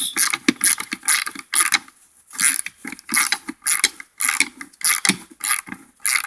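A ratchet with a 10mm socket removing bolts on an ATC 110: rapid, close-up clicking pawl bursts that repeat in quick strokes with short pauses between them.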